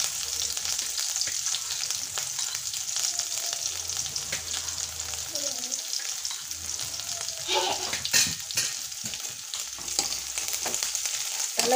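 Ginger paste and chili sizzle loudly in hot oil for a guava pickle, a continuous close crackle with occasional stirring scrapes.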